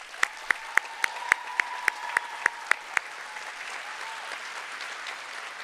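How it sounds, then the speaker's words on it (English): Applause at a high school graduation ceremony for graduates' families and friends: a steady wash of crowd clapping with a run of distinct, evenly spaced sharp claps near the start, fading slightly toward the end. "giving them a very loud round of applause"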